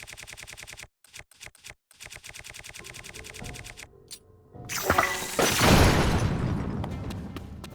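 An explosive detonates in The Legend of Zelda: Tears of the Kingdom, a sudden loud boom with a roaring, decaying rumble that follows a stretch of rhythmic clicking game sounds.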